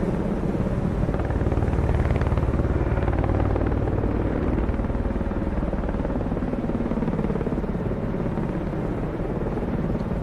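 Helicopter launching from a Russian Udaloy-class destroyer in the Cold Waters naval game, a steady heavy rotor and engine rumble droning continuously at close range with no talk over it.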